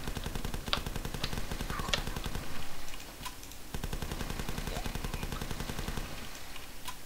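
Rapid automatic gunfire in the video game The Last Stand, a dense machine-gun rattle that runs almost without a break, with a short lull near the middle before the firing resumes.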